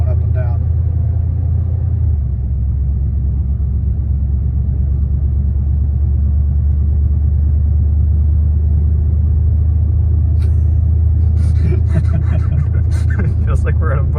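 A 1978 Chevy Camaro rumbles along on flat-spotted tires with a low, steady droning engine and road noise, close up, with a person talking over it near the end.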